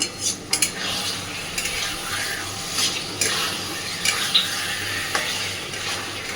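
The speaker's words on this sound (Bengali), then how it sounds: "চিকেনটা দেওয়ার পরে সুন্দর করে কষাতে থাকবো একটু সময় নিয়ে" Chicken is stir-fried in spices for a dhaba-style chicken curry, with an ongoing frying sizzle and repeated spatula scrapes and knocks against the pot at an uneven pace.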